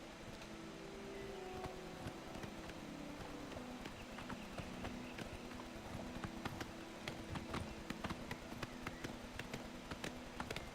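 Horse hooves in Elder Scrolls: Oblivion Remastered clip-clop in a steady trotting rhythm on hard ground, fairly faint, over a low continuous background noise with no talking.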